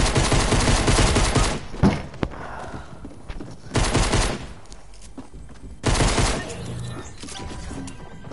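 Gunfire in the video game Fortnite rattles out in loud, dense bursts of rapid automatic shots, separated by quieter gaps with softer impacts and clatter.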